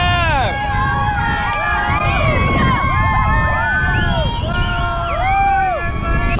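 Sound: kids and families cheering on RAGBRAI cyclists

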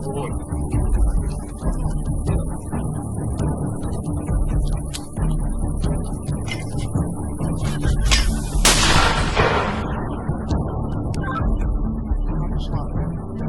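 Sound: mortar firing rounds

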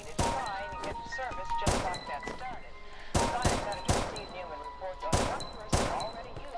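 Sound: gunfire in Minecraft PvP with guns, a video game

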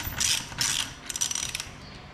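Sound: ratchet and socket tightening a Jeep tire lock

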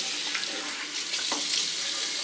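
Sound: water running for rinsing after shaving

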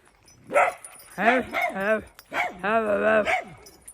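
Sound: dog yapping

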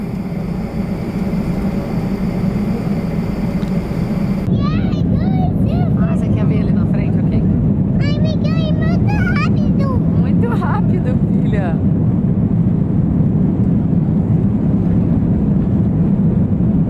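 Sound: airplane accelerating fast on the runway

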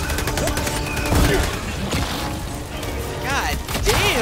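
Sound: gunfire in the video game Helldivers 2

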